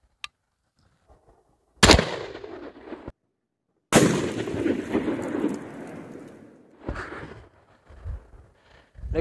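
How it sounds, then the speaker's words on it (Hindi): Shots from a locally made Darra gun fired at body armor outdoors: a sharp crack near two seconds, then a louder blast at four seconds with a long rumbling decay, followed by scattered knocks and handling noise. "चलिए आखिरी फायर करते हैं दोस्तों"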